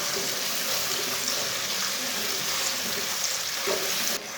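Chopped onion fries in about a cup of oil in a pan: a steady, dense sizzle and crackle holds evenly throughout, fairly loud and close, with no voices.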